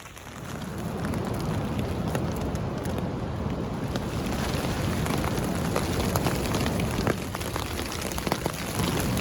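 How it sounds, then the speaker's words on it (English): Heavy rain pours down continuously on a hammock campsite in Rhode Island while wind buffets the microphone, a dense, unbroken roar with occasional louder gusts. "Seems like the rain is tapering off a bit."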